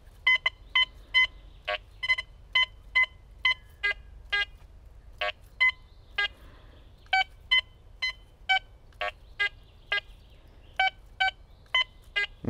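A Quest X10 IDmaxX metal detector sounds a long run of crisp, evenly spaced beeps over a target at 25 cm depth, roughly thirty tones with a few brief pauses, close and loud above a soft background hum.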